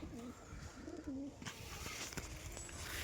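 Caged pigeons giving soft, low cooing calls, a few coos in the first second or so over faint, quiet background noise.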